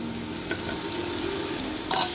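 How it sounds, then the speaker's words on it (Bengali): Spice masala with tomato being sautéed in a pan for ghugni with pumpkin greens, a close, continuous sizzle with soft stirring scrapes and a sharper clink of utensil against pan near the end. "এবার মশলাটা আমি কষে নেবো ভালো করে। টমেটোটা দিয়ে দিচ্ছি।"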